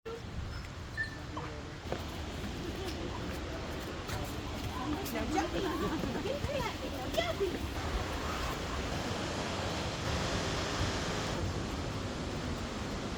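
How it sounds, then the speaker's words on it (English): Blackwater Falls in Davis, West Virginia, heard from right in front of the waterfall, a steady broad rushing roar of falling water that continues unbroken, with faint voices beneath it. "We were literally standing in front of the waterfall"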